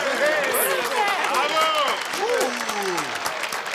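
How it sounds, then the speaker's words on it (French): Loud, sustained audience applause for performers at a lively evening show, a thick wash of clapping mixed with crowd chatter and cheering voices throughout. "Oui, vous pouvez les applaudir très fort"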